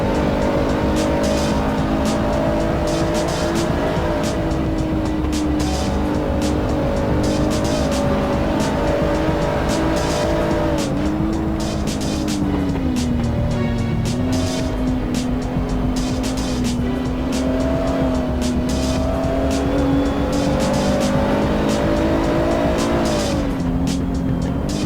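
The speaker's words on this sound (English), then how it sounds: "De Villiers now closing in on Absma. This is the battle for 6th position" GT3 race cars scream around Paul Ricard in an Assetto Corsa endurance race, engines howling steadily close by with pitch rising and dropping through gear changes and braking, tires squealing now and then.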